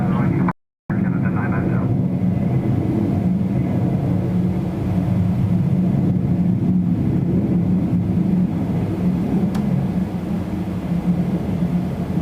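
A British Airways airliner bound for Heathrow lines up on the runway at Toronto Pearson, its engines giving a steady, broad low roar that holds for the whole stretch, with a brief dropout near the start.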